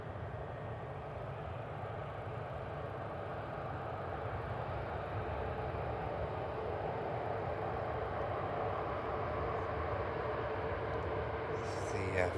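EasyJet airliner on the Amsterdam flight back-tracking along the runway, a steady broadband engine roar that holds at a constant level throughout, heard from some distance with a faint voice underneath.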